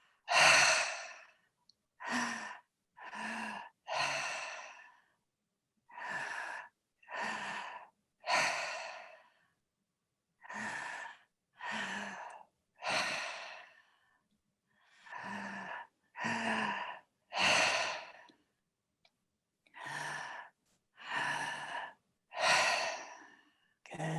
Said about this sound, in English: Inhale belly, inhale chest, exhale.